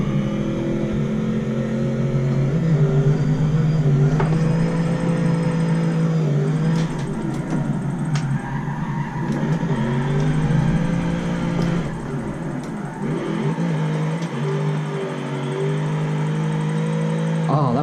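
A 1996 Holden Commodore SSR-spec V8 drift car runs a lap with a loud, steady engine drone close up, rising and falling with revs, along with brief tyre squeal and a few clunks, and no talking.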